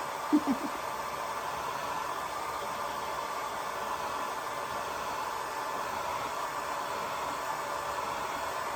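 A hair dryer blows steadily on watercolor paint for a pink rose, a continuous broadband whoosh that holds at an even level throughout with no talk over it.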